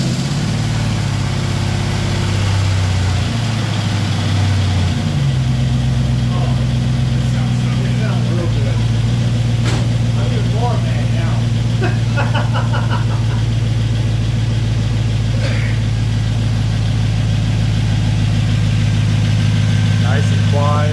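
A swapped 6.0-liter V8 in a truck starts and settles into a loud, steady idle with exhaust fitted, holding a constant droning rumble throughout while people talk over it.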